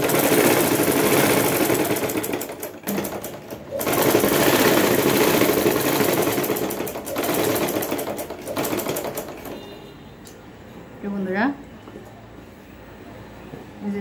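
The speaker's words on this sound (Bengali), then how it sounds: "আমি নিচের অংশের কাপড়টা সেলাই করলাম" A sewing machine stitches the lower section of a garment's neck fabric in loud, close bursts of rapid mechanical whirring, separated by short pauses, before it slows and stops near the end.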